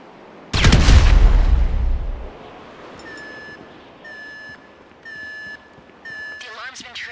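A breaching charge detonates in GTA V with one loud, close blast that rumbles and fades over about a second and a half, followed by a repeating electronic alarm tone sounding in short bursts.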